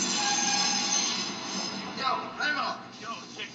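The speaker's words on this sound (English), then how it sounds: "gather your feet before we get hit by this train" Train rumbling past in a film scene, a loud broad roar that fades somewhat, with voices and music-like tones breaking through toward the end.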